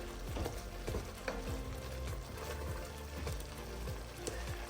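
Masala frying in oil in a pot while being stirred, giving a soft, continuous sizzle with repeated scraping stirs, close and fairly quiet with no voices.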